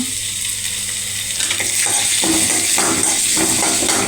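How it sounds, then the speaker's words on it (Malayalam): Chopped tomatoes fry in a pan for a fish curry, making a loud, continuous close-up sizzle that stays dense and even throughout, with no voices. "ഇനി ഇതിനകത്തേക്ക് നമുക്ക് അരിഞ്ഞു വെച്ചേക്കുന്ന തക്കാളി ഇടാം"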